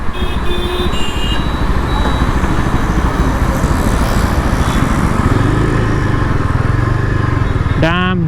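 Yezdi Adventure motorcycle with a 30 PS engine running steadily up close as the rider turns it through tight maneuvers, a continuous loud engine drone with a brief rising whine near the end.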